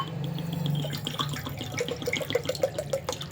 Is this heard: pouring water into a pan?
yes